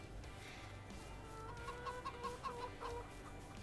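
Chickens cluck in Farming Simulator 22, a run of soft repeated clucks over a low steady background hum, faint and heard without talk.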